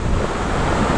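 Sea waves wash at a beach in Cay Subic, Cavite, a loud continuous roar of surf mixed with heavy wind noise on the microphone, steady and close, with no talk.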